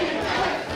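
A crowd at a live wrestling show roars and chants in a dense, sustained wash of voices, loud and close, with no gaps.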